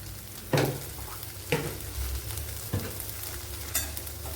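Black pepper and coriander powders roasting in hot oil in a pan for drumstick leaf curry, a continuous close sizzle broken by four evenly spaced scraping strokes of a spoon.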